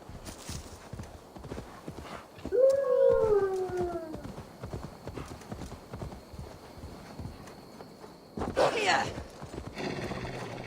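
Horse in the Assassin's Creed Valhalla video game, reskinned to look like a wolf, gives one loud whinny in the middle over steady rhythmic hoofbeats, with game sound and a brief burst of noise near the end.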